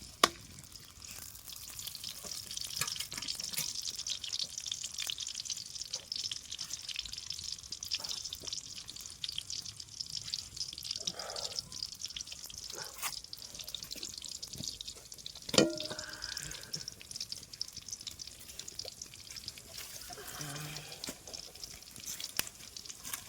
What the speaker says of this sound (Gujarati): તો તેલ તો ગરમ થઈ ગયો. હવે નંદીએ લસણ.